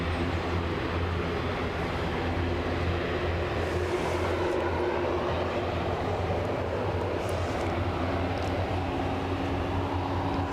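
ATR turboprop aircraft engines spool up, a steady broad roar with a low droning hum, distant and unchanging over the full stretch, with no voices over it.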